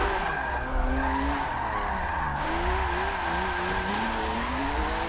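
A BMW M4 race car in a sim racing game with a cockpit helmet view, its engine droning loudly and steadily while tires squeal and skid with wavering pitch throughout, without any talk.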